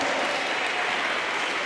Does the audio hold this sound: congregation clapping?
yes